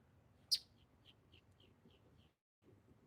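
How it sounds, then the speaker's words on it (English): Birds in a home garden, one sharp chirp followed by a quick series of faint, evenly spaced tweets, distant and soft over a quiet background. "You hear the birds?"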